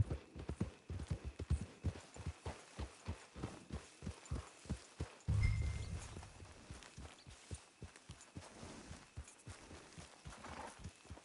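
Steady rhythmic clip-clop of horse hooves walking on a hard surface in Red Dead Redemption 2, close and clear, with a brief low rumble midway.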